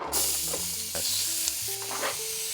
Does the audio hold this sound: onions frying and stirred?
yes